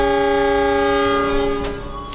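A train horn sounds as a train passes, a loud, sustained, steady tone close by that holds for about a second and a half before fading. No one speaks.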